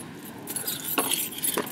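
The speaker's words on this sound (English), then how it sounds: "you have all my keys" A bunch of keys jangles close by in a few bright metallic bursts, with faint background noise and no talk.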